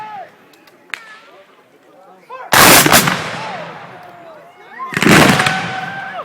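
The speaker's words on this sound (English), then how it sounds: "And here comes a massive volley by the Confederate troops." Confederate troops fire a massive musket volley at a Civil War reenactment, two loud crashing bursts of overlapping shots roughly two and a half seconds apart that echo and fade, with a crowd murmuring faintly between them.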